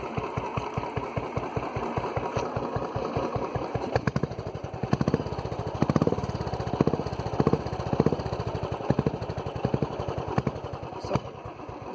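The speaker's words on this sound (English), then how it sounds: "So that's the sound of my bike." A Royal Enfield Standard 350 single-cylinder motorcycle idles close by with a steady, evenly pulsing thump, shifting to a slightly heavier, uneven beat partway through.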